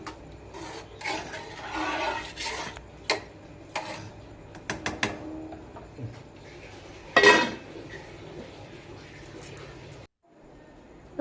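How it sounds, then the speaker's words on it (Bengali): Khichuri stirred in a cooking pot with a spoon, then covered with a lid: soft scraping and rubbing strokes, a few sharp metallic clinks, and a louder clatter near the end before it falls quiet. "তো এবার নাড়াচাড়া করে ঢাকা দিয়ে দেব সেদ্ধ হওয়ার জন্য"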